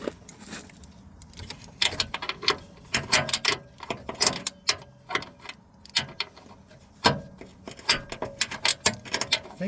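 A ratcheting socket wrench works on car fender bolts during a fender installation on an MK8 Volkswagen GTI, giving bursts of sharp metallic clicking close by, broken by short pauses and handling noises.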